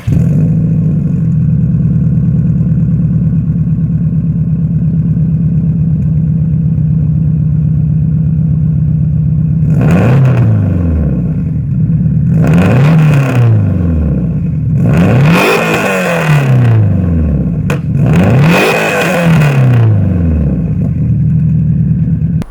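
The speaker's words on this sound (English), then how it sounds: "we have the Invidia full titanium catback exhaust. I'll go ahead and insert a sound clip" A Subaru STi with an Invidia full titanium catback exhaust idles with a deep, loud drone, then revs hard four times in a row, each rise and fall distinct and close.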